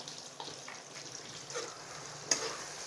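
Spice masala sautéing with tomato in oil for a spicy bhaji curry, a soft, even sizzle with a few light stirring scrapes and one brief sharp clink.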